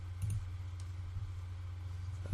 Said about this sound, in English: I'm clicking out to zoom out on my map.